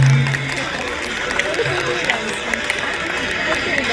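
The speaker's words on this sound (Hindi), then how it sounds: "जोरदार तालियों से स्वागत कीजिए" An audience at a children's Shiv Vivah performance breaks into sustained, fairly loud clapping, a dense wash of hands with crowd murmur and a voice heard briefly at the start.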